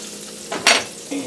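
Curry potato leek soup boiling in a pot gives a brief, close bubbling and stirring burst that swells sharply mid-clip and then settles, with no talking.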